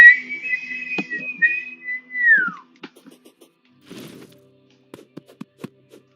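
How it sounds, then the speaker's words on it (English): A person whistles a clear, wavering tune up close, ending with a falling slide, followed by a few faint clicks and soft knocks during a podcast recording. "I just inhaled while whistling"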